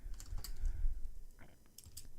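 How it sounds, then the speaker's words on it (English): Command typed on a computer keyboard for a Linux terminal, quick irregular clicks of keys pressed in short bursts, close and fairly quiet, with no talk. "So what we are going to do now is type in this"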